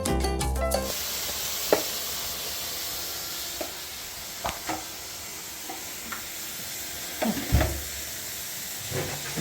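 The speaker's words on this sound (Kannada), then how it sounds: "ಮತ್ತೆ ಸ್ವಲ್ಪ ಫ್ರೈ ಮಾಡೋದು" Onions frying in a pan in a home kitchen, a steady soft sizzle and hiss running throughout, broken by a few brief stirring clicks and scrapes of a utensil against the pan.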